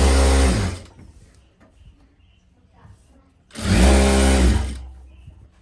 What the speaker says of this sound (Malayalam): നമുക്ക് ഈ സ്ലിറ്റ് ഒന്ന് തയ്ച്ച് എടുക്കാം